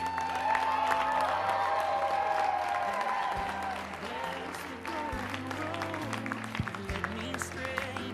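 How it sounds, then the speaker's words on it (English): Crowd at a college sports event applauding seniors, sustained clapping and some cheering from a large audience, with an announcer's amplified voice echoing over it. "Let's give one more round of applause for our 3 seniors, Lindsay, Emily, and Mia"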